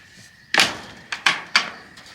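A wooden chicken tractor door with fencing wire attached shuts in a few sharp knocks and bangs, three main impacts close by with light rattling, no talk.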